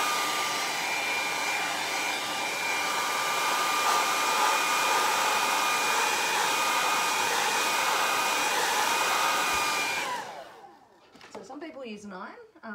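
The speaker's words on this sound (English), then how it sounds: "I'm going to use my hairdryer to do this" Handheld hair dryer blowing steadily on fabric to lift marker from a flower pot stitching piece, a loud continuous whooshing drone for about ten seconds that cuts off abruptly, followed by faint rustling.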